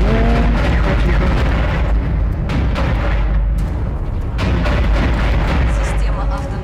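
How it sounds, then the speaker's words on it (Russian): Rapid bursts of gunfire and booming impacts from an auto-targeting gun turret in the video game Dead Space, loud and dense with sharp repeated cracks over a rumbling low end. "Отличная стрельба, Айзек."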